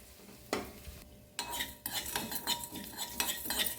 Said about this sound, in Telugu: సన్నగా మగ్గుతున్నాయి ఇవి ఒక్కసారి కదిపి